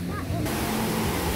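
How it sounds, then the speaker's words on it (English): Steady broadband rush of a waterfall spilling from a hotel lobby down into a pool at a Walt Disney World resort, loud and continuous, with voices faintly mixed underneath. "The waterfall that starts inside of the lobby goes all the way down into the pool."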